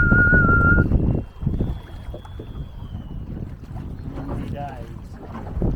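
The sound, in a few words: fishing lines whistling in the wind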